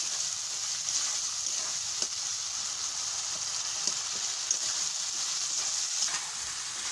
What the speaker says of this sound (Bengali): এইভাবে 10 মিনিট নাড়াচাড়া করে মশলাটা ভেজে নেব